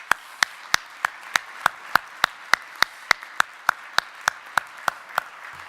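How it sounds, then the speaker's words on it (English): At a state economic summit in Utah, one close pair of hands claps in a steady, even beat, about three claps a second, over a wider wash of audience applause behind it. "give him a big round of applause"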